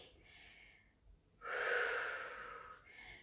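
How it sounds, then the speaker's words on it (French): Someone exhales during a fitness workout with one long, breathy rush of air at close range. A softer breath comes before it, and the exhale fades slowly. "Mais avant ça, soufflez."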